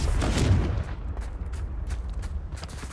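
Confringo explosive spell fired in Hogwarts Legacy, a loud booming blast at the start that rolls into a rumbling tail, followed by several sharp crackling impacts, with no talking.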